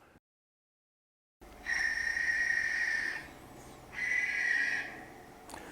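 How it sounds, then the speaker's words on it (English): A screech owl in forest gives two long, drawn-out screeching calls, each lasting about a second, after a moment of silence, heard alone and fairly clear. "Screech owl."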